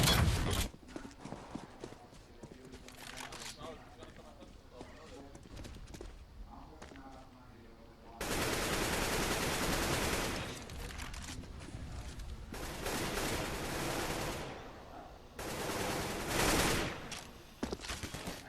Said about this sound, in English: A little bit of opening fire coming in from the Mouse Sports side of things